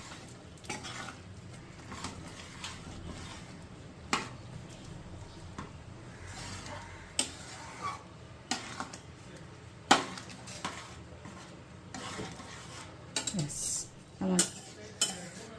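A pan of chicken chana masala, with garam masala, salt and sugar added, is stirred with a utensil that scrapes and knocks against the pan over a low frying sizzle, while a voice speaks briefly.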